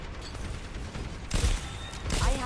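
Overwatch 2 match with a steady background of game effects, broken by two loud, close bursts of rapid turret gunfire, one in the middle and one near the end.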